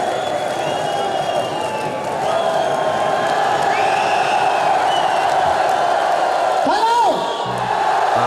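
A large studio audience cheers and whoops continuously at a 1979 television concert, a loud, dense crowd roar that holds steady throughout, with shouts rising above it near the end.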